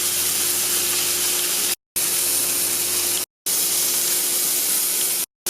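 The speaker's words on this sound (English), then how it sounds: "Making sure to really sear the sides." Steak searing in a hot pan, a loud continuous sizzle close up, broken by three brief silent gaps, with no talking.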